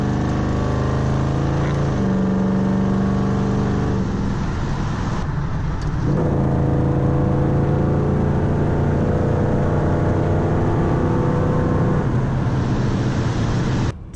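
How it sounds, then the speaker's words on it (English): A 1958 Chevrolet Impala with a V8 cruises along, its steady low engine drone heard from inside the car, with a couple of shifts in pitch as it accelerates and settles. "Taking a cruise in the 1958 Chevrolet Impala."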